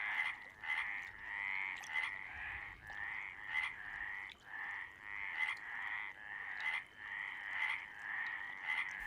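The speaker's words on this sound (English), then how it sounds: "It is mating season for the frogs, and there is a lot happening in the still waters of the lake." Chorus of frogs croaking in the still waters of a lake in Portugal during mating season, a dense, continuous rhythmic calling with repeated pulsing notes, fairly close and steady throughout.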